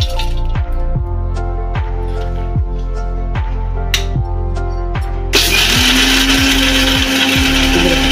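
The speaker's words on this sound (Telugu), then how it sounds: "మిక్సీ పట్టేసుకుందాం." A mixer grinder whirs loudly, grinding fried dried red chillies into powder, starting with rhythmic thumping pulses and then rising into a steady, dense roar near the mic.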